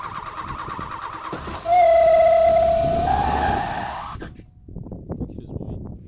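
A loud hissing rush of air at the intake of an old wrecked car's running engine, partly covered by a hand, with a rising whine, fading out to quiet ticking and knocks.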